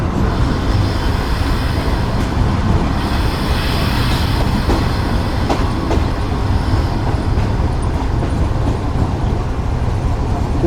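A Pakistani passenger train on the Pak Business Express route rumbles along the rails, loud and continuous, with faint clicks and wheel squeals over the steady roar and no talking.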